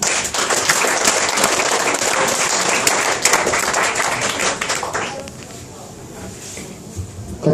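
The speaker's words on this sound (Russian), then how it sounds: "Аплодисменты Михаилу Кедриновскому" Audience at a poetry evening in an art café claps in a dense burst of applause that fades after about five seconds, with a voice speaking over it.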